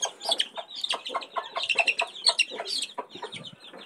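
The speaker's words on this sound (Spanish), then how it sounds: "Son 14 lindos pollitos." Newly hatched chicks peep continuously in shrill, rapid overlapping chirps, close and fairly loud, while being handled for their first vaccination; no talk is heard.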